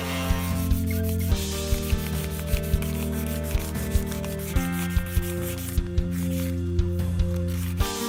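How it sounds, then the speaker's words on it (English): Wood pieces for a Spartan helmet stand are sanded with rhythmic back-and-forth rubbing strokes, close and steady over a constant background hum. "I would then sand the wood to the desired finish."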